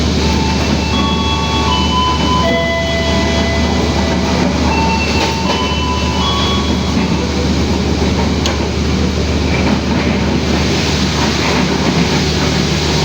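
The Wijayakusuma premium-class passenger train of Kereta Api Indonesia running on rails, heard from inside the carriage as a loud continuous rumble with rhythmic wheel clatter and occasional faint squeals.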